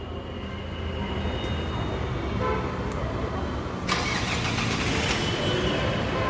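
Remote start of a Hyundai Creta, the engine cranking and catching with a sudden louder burst partway through, then settling into a steady running hum close by.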